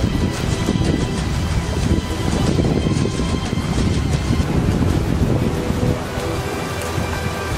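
Steady roar of wind blowing across an open outdoor site during an endurance challenge, loud and continuous with gusty rumble throughout, no voices.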